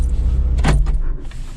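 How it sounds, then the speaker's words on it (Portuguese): The handbrake of a Chevrolet Corsa Wind is pulled, a short ratcheting click burst in the middle over a steady low in-car rumble, near and fairly loud, no talk. "Barulho freio de mão."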